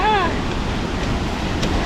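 A waterfall gives off a constant broadband roar of rushing water, loud and close. A voice is heard over it briefly at the start.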